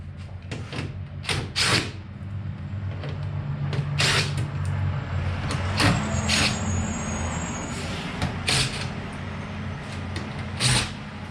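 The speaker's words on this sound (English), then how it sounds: "Got all of the big trucks in the neighborhood today running around" Big trucks rumble around a neighborhood, a steady low engine drone with repeated sharp hissing bursts like air brakes and clanks scattered throughout, moderately loud and close.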